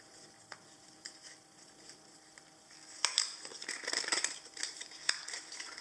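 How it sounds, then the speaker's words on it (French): Cosmetics packaging for a cream product is opened by hand, giving faint crinkles, snips and small taps, quiet at first and then a denser burst of rustling and scraping near the middle. "Je vais peut-être réussir à l'ouvrir sans casser l'emballage."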